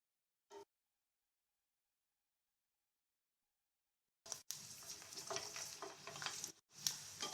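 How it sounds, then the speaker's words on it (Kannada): Rice papads (akki sandige) drop into hot oil and fry with a loud, steady crackling sizzle that starts abruptly after near silence and a single faint tap, briefly dipping once. "ಈಗ ಎಣ್ಣೆಯಲ್ಲಿ ಕರಿತಾ ಇದ್ದೀನಿ"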